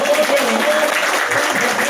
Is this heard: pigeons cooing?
no